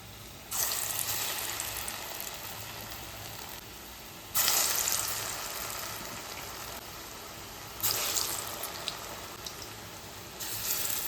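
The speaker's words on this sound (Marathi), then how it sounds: "हे पहा, तेल गरम झालेलं आहे। आता वडा सोडूया। असेच आपल्याला सावकाश वडे सोडून घ्यायचे।" Medu vada, savory lentil fritters, hit hot oil on a high flame with repeated bursts of vigorous sizzling. Each surge erupts as another fritter drops in and then settles into a steady crackling hiss, close and loud.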